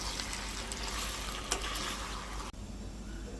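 Raw chicken pieces being mixed with ginger garlic paste, turmeric and oil for a spicy chicken fry: a steady, close, wet churning noise that cuts off sharply partway through, then resumes more quietly.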